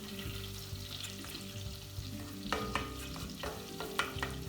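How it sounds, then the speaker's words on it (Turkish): Red pepper paste is stirred and sautéed in a pan for tarhana soup, giving a steady close sizzle broken by scraping strokes of the spoon that come in short bursts toward the end, with no talking. "Salçanın kokusu gidinceye kadar şöyle güzelce kavuralım."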